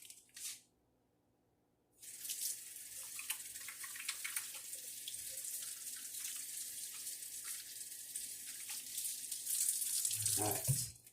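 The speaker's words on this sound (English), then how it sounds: "Now, I'm going to rinse my hands." Water running from a tap over hands being rinsed at a sink, a steady close splashing hiss starting after a brief pause and continuing to the end.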